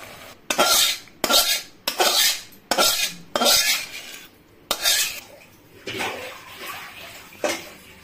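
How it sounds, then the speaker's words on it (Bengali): A metal pot of ridge gourd (dhundul) curry is handled on the stove, giving a series of loud, rhythmic metallic scrapes and clatters close by. "এখন আমি নামাবো তরকারিটা"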